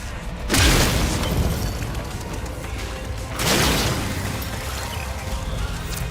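Two heavy explosions in the Warframe quest Heart of Deimos, each a sudden deep boom that rolls off into a long rumbling decay, loud and close, about three seconds apart.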